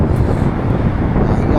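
Strong wind buffets the microphone of a DJI Osmo Action 5 Pro camera in a steady low roar, drowning out other sounds for the whole moment.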